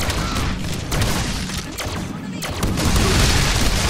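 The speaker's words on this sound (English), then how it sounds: "Woohoo! Fireworks!" Fireworks going off in the Deadpool video game, a rapid volley of booming bursts and crackling blasts, loud and dense across the whole stretch, with a voice briefly over the top.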